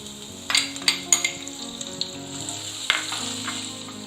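Ten finely chopped small onions tip into hot oil with browning garlic, setting off a sharp burst of crackling, then a steady sizzle with a few utensil clinks and stirring taps, all close and without talk.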